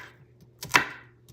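A knife slicing slits into half an onion on a cutting board, heard as a couple of short, crisp cuts close by in a quiet room.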